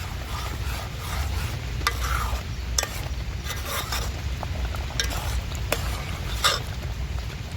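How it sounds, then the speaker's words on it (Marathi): Garlic tempering sizzling in hot oil with scraping, rubbing strokes of a spoon stirring in a pan, steady and close, with occasional sharp clicks. "तर आता लसूण लाल झालाय तर आता मी फोडणीला देऊन घेते"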